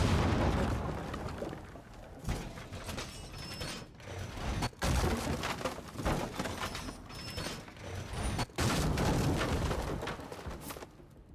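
Frag grenade going off in the mobile shooter Rainbow Six Mobile, amid a dense, noisy stretch of loud bursts and clattering impacts with sharp sudden drops between them.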